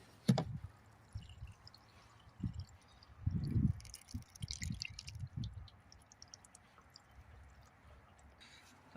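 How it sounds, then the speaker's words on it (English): AdBlue trickles and glugs through a funnel into the tank of a Land Rover Discovery Sport 2.0d, a quiet, uneven pouring with soft splashes and drips, nearby and without talk. "Now we'll just make sure that the Adblue tank is full."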